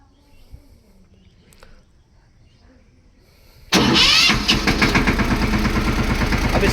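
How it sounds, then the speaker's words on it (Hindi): A Swaraj 717 mini tractor's engine cranks and fires after a few quiet seconds of faint handling noise, then settles into a loud, steady, close diesel idle with rhythmic chugging. "अभी इस ट्रैक्टर का मैं आवाज़ सुनाता हूँ आप लोगों को।"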